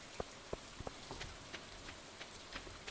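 Rain falls in the Stardew Valley video game, a quiet patter with scattered individual drops tapping irregularly over a soft steady hiss.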